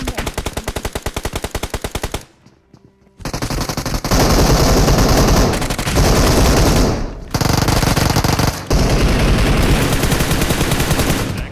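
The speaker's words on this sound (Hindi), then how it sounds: "मैंने फायर किया यहाँ पे, देन उसके बाद ग्रेनेड खोला।" Loud gunfire with rapid automatic bursts from a video game shooter, broken by a short quieter gap, then dense sustained firing and blasts that fit a thrown grenade.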